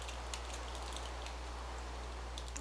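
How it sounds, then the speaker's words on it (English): Steady rain falls in a video game, a soft continuous hiss with faint scattered droplet ticks over a low background hum. "It is really wet now, since it's raining."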